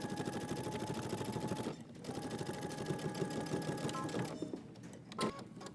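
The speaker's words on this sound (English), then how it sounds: "And then I'm going to switch to a basting stitch," A sewing machine runs a long basting stitch along a trouser seam, a steady close whirring hum with rapid needle clatter, pausing briefly before resuming, with a few clicks near the end.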